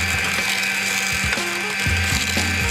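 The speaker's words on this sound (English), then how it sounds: "I'm going to cream the butter and sugar." An electric hand mixer creams softened butter and sugar for chocolate spice Easter biscuits, a steady close mechanical whir with gear-like ratcheting and rhythmic thumps as the beaters work the bowl, with no talking.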